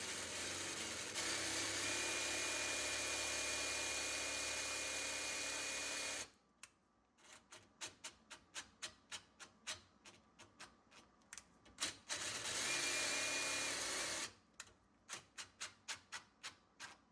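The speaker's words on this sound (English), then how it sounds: "put the drill in reverse." A power drill running in reverse during a dishwasher installation whirs continuously for several seconds, then fires in a series of short, rapid bursts, runs steadily again, and ends with more brief pulses.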